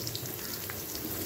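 Asafoetida tempering in hot oil for Chettinad keerai kuttu, a steady fine sizzling and crackling with small pops, close and fairly quiet, no voices.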